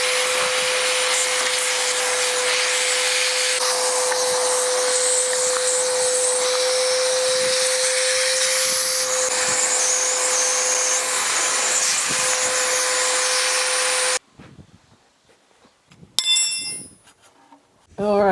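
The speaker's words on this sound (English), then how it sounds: "I do want to run over this thing real quick with our shop vac just to kind of pull up some of this loose stuff" A shop vac runs loud and steady for about fourteen seconds while it pulls loose debris from the engine bay of an abandoned Squarebody dually truck. It then cuts off abruptly, leaving quiet with a few faint clicks and clatters.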